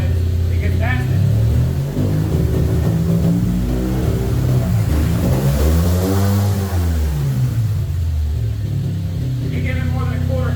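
Car engine revving hard under quick throttle, loud low rumble swelling and falling with sweeping pitch, over a constant close idle; a voice talks over it at times.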